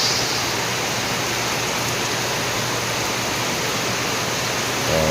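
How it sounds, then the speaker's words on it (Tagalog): Heavy tropical rain pours down in a dense, unbroken roar, loud and steady throughout with no voices. "Ngayon paano lang, ulan na lang ang lakas."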